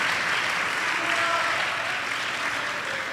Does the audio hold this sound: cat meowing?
no